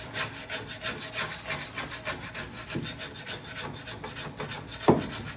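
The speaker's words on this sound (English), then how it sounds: "We'll just take a little bit of wire brush." A wire brush scrubbing loose corrosion off the metal of a Pro Street Pinto engine bay, rapid rough back-and-forth strokes in a steady rhythm with a couple of sharper scrapes, close and alone.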